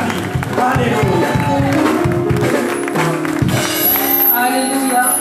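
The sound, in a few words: church congregation acclaiming and cheering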